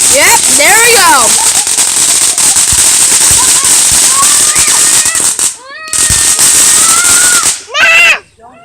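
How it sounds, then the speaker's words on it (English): Fireworks burst and crackle in a dense, loud barrage, with whistling rising tones and sharp pops, broken by two brief near-silent gaps before the bursts resume, while excited voices shout over them. "These things, there you go. There's fireworks."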